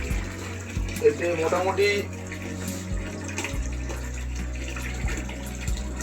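Water from a home fish tank, roughly 3 by 2 feet, runs and splashes steadily as it is poured out during cleaning, with a low humming drone beneath and a brief voice near the start.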